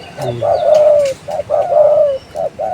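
A decoy dove, a trained calling bird offered for sale, coos in a close, loud repeating pattern of short and drawn-out notes, with a faint chirp from another bird; no speech.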